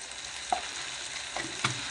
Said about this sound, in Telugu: పచ్చిమిర్చి అన్నీ కలిపి ఒకేసారి వేపిస్తున్నాం